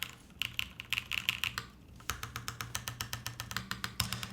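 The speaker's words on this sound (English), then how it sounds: "Awesome sounding keyboard." A custom-built Duck Austin R3 mechanical keyboard is typed on up close, its crisp clacking keystrokes coming in quick bursts, then settling into a steady, evenly spaced rhythm, with no voices.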